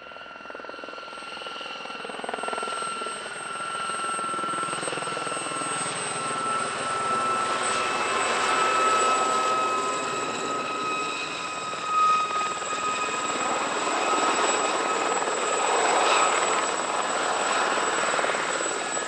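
An Aérospatiale Gazelle SA-342M helicopter, an anti-tank variant built for the French Army and now on the civil register, flies at an airshow with a steady, sustained rotor and turbine roar and a high whine throughout.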